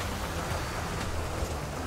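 Rain falling in the video game Grand Theft Auto Online during a race, a steady faint hiss of broadband noise with no voices, brief and unchanging.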